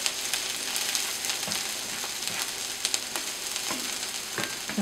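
Onion frying in butter, a steady dense sizzle with scattered crackles and pops throughout, close and continuous with no talking.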